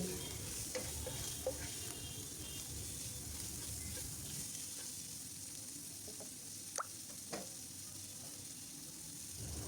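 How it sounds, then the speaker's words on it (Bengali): Steady sizzling of shrimp and green chillies frying in hot oil, close and continuous, with a few light clinks of stirring. "এখন এগুলো আমি খুব ভালোভাবে ভেজে নিচ্ছি"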